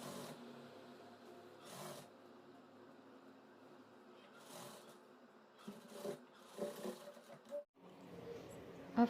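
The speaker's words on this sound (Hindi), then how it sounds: "अब फ्रंट साइड से भी कॉलर को इस तरह से रखते हुए सिलाई लगाएंगे।" Sewing machine stitching a collar onto the front of a kaftan top, running in steady bursts with brief pauses and handling noises between runs, fairly quiet and close.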